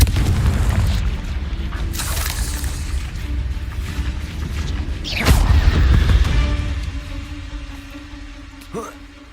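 Confringo spell blasts in the Hogwarts Legacy video game, with deep booming explosions, rumbling impacts and mechanical clatter, alongside shouted voices and a sharp flash-like hit near the end.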